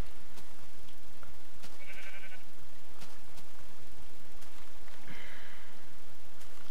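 Sheep in the Minecraft video game bleat twice, a few seconds apart, each a short nasal call over a steady background hiss, with no talk.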